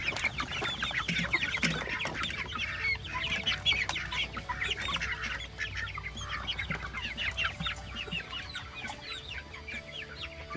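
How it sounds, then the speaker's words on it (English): A flock of meat chickens clucks steadily as they settle in to roost for the night, with dense overlapping calls throughout and a low farm background hum. "The chickens are starting to roost for the night."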